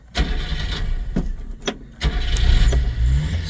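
A 1990 Subaru Sambar 4x4 with a 5-speed manual cranks and starts up close, its small engine catching after a few cranking bursts and settling into a loud, steady idle.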